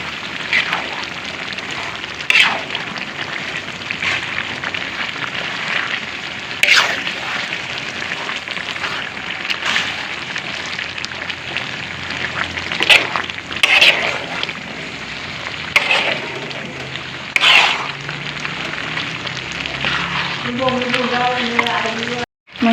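Kokek, a Kampar dish with lemon leaves, sizzles steadily in a frying pan as it is stirred, with sharp scraping clacks of the utensil recurring every few seconds and a brief voice near the end.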